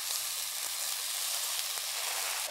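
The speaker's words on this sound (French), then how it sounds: "je vais le faire revenir grâce à ma cuillère à risotto dans l'huile d'olive et avec les oignons" Carnaroli rice and chopped onions sizzle steadily in hot olive oil in a pan, a dense continuous hiss close by with faint stirring, and no voices.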